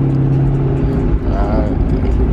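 A Dodge Scat Pack car downshifts close by, its engine a loud, steady low rumble with a brief rising rev burble partway through, and a voice talks over it.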